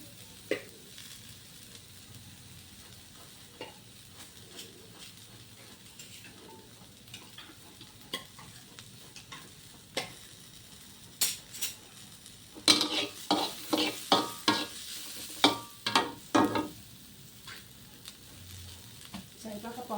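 Canned fish stirred in a pan while making a fish chili paste: faint frying hiss with irregular spoon scrapes that build into a run of loud, quick clanks against the pan in the latter half, close by, no voices.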